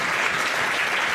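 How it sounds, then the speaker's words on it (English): Conference audience applauding at a closing session, a dense, steady burst of clapping that fills the room throughout. "I would like to ask for a big applause to Sergio"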